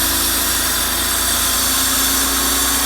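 A Mercedes R129 300SL engine with a vacuum leak runs close by at a steady, even speed for the whole stretch, a continuous mechanical hum with no voices.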